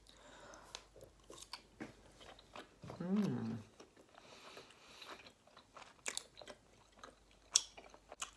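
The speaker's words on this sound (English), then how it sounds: "and these are Korean rice cakes. I'm just gonna get right into it. So chewy." Chewy Korean rice cakes are chewed and bitten close up, with soft sticky mouth sounds and small crunches, faint and intermittent, with a brief low hum in the middle.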